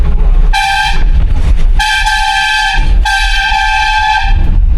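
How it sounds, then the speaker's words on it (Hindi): A loud passenger train horn blasts three times in long, evenly spaced tones over a constant rumble of the moving train. "तो साथ में हॉर्न की आवाज़ आती है।"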